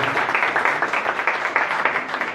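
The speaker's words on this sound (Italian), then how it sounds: "Ancora un applauso a loro." Audience at a live jazz concert at the Cotton Club in Rome clapping steadily, a dense, even applause throughout with no voices standing out.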